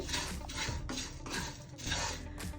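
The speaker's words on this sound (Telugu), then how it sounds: "ఇక్కడ నేను 1 కప్ వరకు అటుకులు తీసుకుని ఇవి గోల్డెన్ బ్రౌన్ కలర్ వచ్చే వరకు ఫ్లేమ్ని మీడియం ఫ్లేమ్లో పెట్టుకుని వేయించుకోవాలండి" One cup of poha, flattened rice, dry-roasting over a medium flame in a pan, giving a rustling, scraping stir in repeated sweeps with light clinks of a utensil against the metal, fairly quiet and close.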